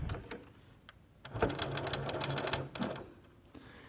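A sewing machine stitches a pencil case, with a few light clicks before the motor starts into a close, rapid rattling run that stops after a couple of seconds, followed by quieter handling clicks.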